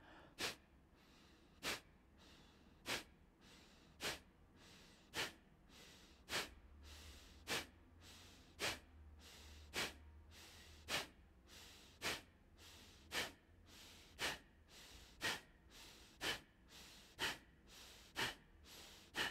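Yoga breathing practice with forceful active exhales through the nose at a steady rhythm of about one every second and a bit, each sharp puff alone against quiet, soft passive inhales in between.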